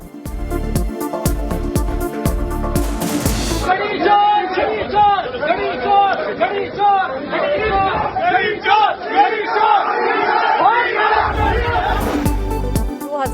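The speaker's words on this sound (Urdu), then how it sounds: "وکلا نے عمران خان کو دیکھا، گھڑی چور کے نعرے لگا دیے" Lawyers at the Lahore Bar crowd together chanting slogans at Imran Khan, a loud, dense mass of shouting voices with rhythmic bursts at the start and end and a swelling roar of chanting through the middle.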